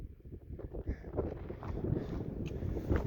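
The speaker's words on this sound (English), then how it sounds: "I'm starting to feel a little bit of a breeze." Wind gusting across a high mountain ridge on a Colorado fourteener hike, a steady low rushing buffet against the microphone with slight swells, no voices.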